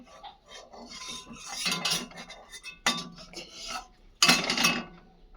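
A metal spoon clinks and scrapes against a wok during stirring, coming in irregular bursts of sharp rattles and rubs with quiet gaps between them.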